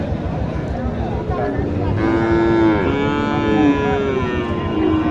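A cow moos loudly over a steady crowd murmur at a cattle market in Naogaon, Bangladesh, its drawn-out call rising and falling, with voices chattering throughout.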